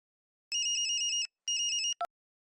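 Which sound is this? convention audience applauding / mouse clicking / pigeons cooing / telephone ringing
telephone ringing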